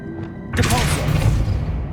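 A Depulso force-push spell cast in Hogwarts Legacy bursts in after a brief quiet, a single thumping whoosh that swells into a loud, sustained rumble with faint tonal ringing, no talk over it.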